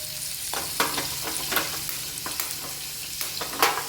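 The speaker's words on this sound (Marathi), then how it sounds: "तवर इकडे आपण जिरे भाजून घेऊ" Cumin seeds roasting in a pan make a constant crackling sizzle, with frequent clicks and scrapes as they are stirred. Nobody speaks.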